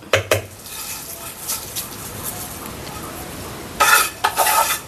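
Kappa biryani of cassava and roasted coconut being stirred in a pot, with scraping and clattering of a metal spoon in bursts at the start and end, over a faint sizzle.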